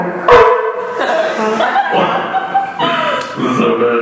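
A man imitates a dog's barks and yips with his voice in short, close bursts, mixed with chuckles.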